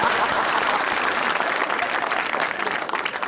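Studio audience at a live Pakistani talk show applauding, a dense steady wash of clapping held for several seconds without talk.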